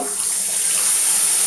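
Water poured from a tap into a pan of chili-powder spice paste for beef curry, a steady broadband rush with high hiss running throughout the brief moment, close and fairly loud, with no talking.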